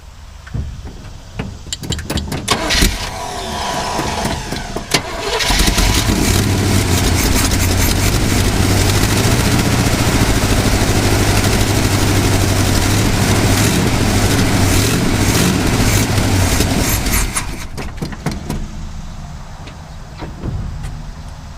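Old 1959 Chevrolet Apache engine running rough after sitting, a low, uneven rumbling idle that rises into a sustained louder run for most of the stretch before dropping back, heard close without voices.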